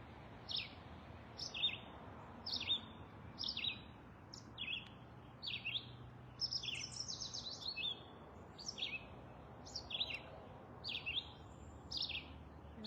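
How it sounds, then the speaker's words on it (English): Birds chirp outdoors behind a meditation session, a series of short, bright tweets repeating at irregular intervals over a faint, quiet background. "the birds that are in the background with us now can come into your visualization."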